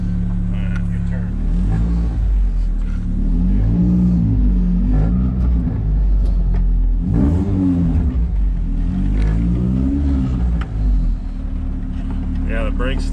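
A Honda-swapped Mini estate's engine rumbles and revs repeatedly while driving, loud and close, with a rough annoying exhaust note rising and falling in several pulls, and people talking over it.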